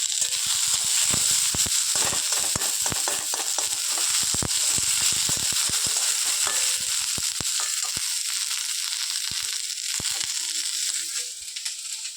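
Onions frying in a pan with okra, prawns, potatoes and torn green chillies give a steady close crackling sizzle throughout, with sharp scrapes and clicks of stirring scattered across it and no talking.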